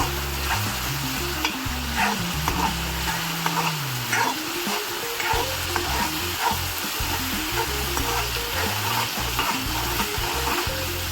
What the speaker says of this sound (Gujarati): હવે ડુંગળી જ્યાં લગી ગોલ્ડન બ્રાઉન ના થઈ જાય ત્યાં સુધી આને સાતળવા દઈશ।